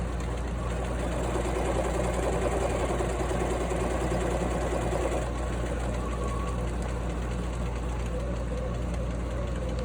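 A sewing machine stitches a back tack on a seam, giving a steady, fairly quiet mechanical hum with fast rapid ticking that continues without a break for about ten seconds, with no voices.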